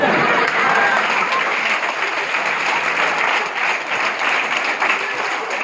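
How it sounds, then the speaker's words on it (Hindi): An audience claps steadily and densely throughout a motivational speech event, a sustained wash of many hands with no pauses. "ये बताओ, आप लोग ये तालियां धोबी के लिए बजा रहे हो कि गधे के लिए बजा रहे हो?"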